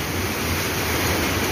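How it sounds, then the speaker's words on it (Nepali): The Marsyangdi river, swollen by a huge flood in the hills, roars as a dense, steady, broadband rush of water that fills the whole moment without a break. "तपाईँको देखिरहनु भएको छ यो मसाङ्गी खोला."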